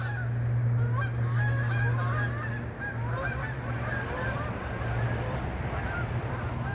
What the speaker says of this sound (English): geese over the yard today